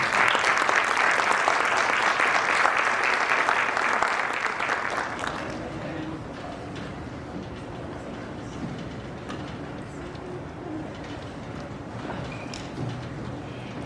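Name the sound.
audience applause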